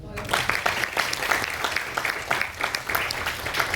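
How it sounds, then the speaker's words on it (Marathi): An audience applauds at an investor-mindset talk, dense rhythmic claps continuing steadily for several seconds at moderate loudness, with some voice-like murmur mixed in. "त्यामुळे रामसाठी टाळ्या होते."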